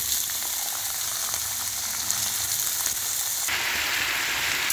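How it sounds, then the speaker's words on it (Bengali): Cumin seeds, dried red chili and chopped vegetables sizzle and fry in hot oil, a steady close crackling hiss that brightens and intensifies partway through, with no voices. "অল্প একটু জিরে ফোড়ন দিয়ে দেবো, অল্প একটু শুকনো লঙ্কা ফোড়ন, ভেজিসগুলো কেটেছিলাম দিয়ে দেবো"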